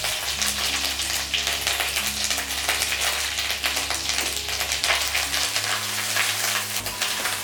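Lote fish with crushed ginger and garlic frying in oil with tempering spices makes a dense, loud, continuous sizzle up close. A low steady hum runs underneath, and there is no talking.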